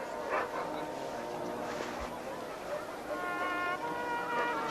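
A dog at a veterinary check gives soft whimpers and short yips over a constant noisy background, with people talking throughout.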